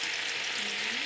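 Chicken frying in a pan of hot oil, a continuous bright sizzle holding at an even, fairly close level throughout the short moment, with no voices over it.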